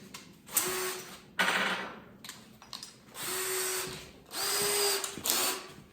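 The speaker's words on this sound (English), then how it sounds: "My 3/8 drill bit so I can get my saw down in here." A power drill fitted with a 3/8 bit bores pilot holes while a wood stove kit is installed, running in several separate bursts of whining motor noise, each with short gaps between, close and loud.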